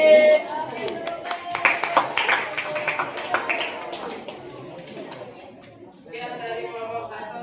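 Students in a classroom doing the rhythmic "tepuk anak hebat" group clap, a cluster of sharp hand claps over the first few seconds with talk mixed in. Background noise follows.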